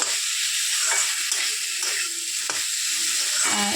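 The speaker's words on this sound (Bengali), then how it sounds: "তা এটা সময় আমি ভালো করে কষিয়ে নেব" Paneer being sautéed dry in a pan, a loud close sizzle with a continuous bright hiss and repeated scraping stir strokes in an uneven rhythm.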